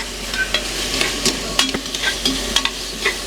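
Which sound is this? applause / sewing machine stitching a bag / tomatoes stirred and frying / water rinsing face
tomatoes stirred and frying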